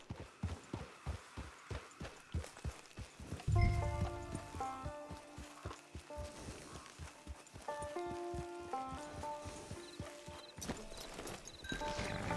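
Horse hooves clip-clop in a steady walking rhythm in Red Dead Redemption 2, close and clear, with soft sustained musical tones playing underneath.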